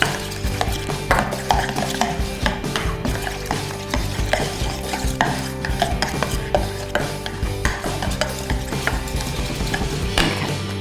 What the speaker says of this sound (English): And then you're just going to pop that in your mayonnaise, and you're going to mix that.